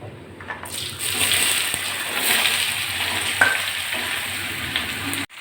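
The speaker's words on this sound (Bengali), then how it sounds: "এবার ধুয়ে কেটে রাখা সবজিগুলো দিয়ে দিচ্ছি" Washed, chopped vegetables hit hot oil in a pan with dried red chillies, sparking a loud, steady sizzle and frying hiss. It stays close and continuous with stirring scrapes and no talk.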